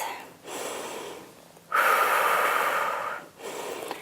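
Heavy, audible breaths held during a Pilates plank in a lower-body workout, a long inhale-exhale pattern close to the microphone, with one strong gusty exhale in the middle and no talking.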